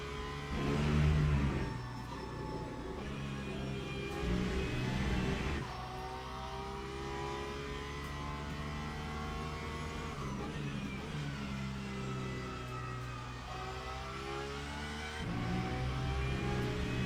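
A race car engine drones steadily from inside the cockpit of an LMP2 or GT3 car in the racing game Le Mans Ultimate, revving up and down with harmonic whine, loud and close throughout.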